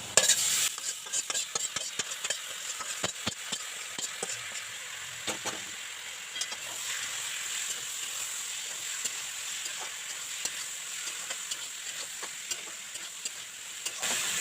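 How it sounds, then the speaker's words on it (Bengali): Chicken being stirred into red-fried potatoes in a pan for a chicken bhuna: a steady hot sizzle runs throughout, broken by repeated scraping and clattering stir strokes, close and with no talking. "এবার আমি এতে মাংসটা মিশিয়ে দেবো।"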